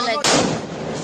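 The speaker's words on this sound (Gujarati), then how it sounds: "ફડાક્યા ફોડી થાકી ગયા છે હવે આપણે" Firecrackers bursting during Diwali celebrations, a sharp loud blast followed by a dense crackling rumble of bangs that fills the rest of the moment, with faint voices in the background.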